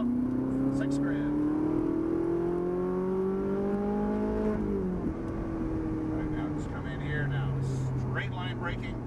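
A Ferrari 458 Italia on a racing track accelerating out of a right turn, engine pitch climbing steeply through the revs before dropping sharply on a gear change, with someone talking over the engine.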